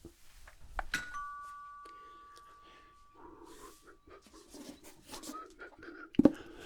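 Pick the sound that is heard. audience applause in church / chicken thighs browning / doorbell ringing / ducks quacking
doorbell ringing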